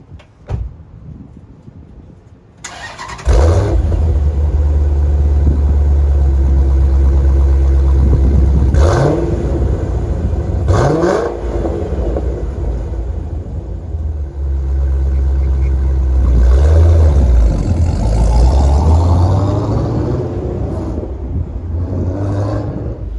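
A 2012 Dodge Challenger SRT8 392 with a six-speed manual drives off in summer heat, its deep V8 rumble loud and steady after a quiet start, with several rev swells between gear changes and a harder pull near the end.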